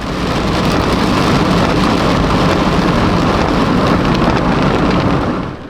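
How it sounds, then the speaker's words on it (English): Dense, steady rain in El Salvador pours loudly without pause, a broad unbroken hiss close by, fading slightly at the very end. "here comes the rain, again."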